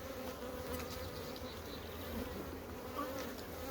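Dense, steady buzzing of many honeybees around a hive that is being worked, a continuous close drone without pauses.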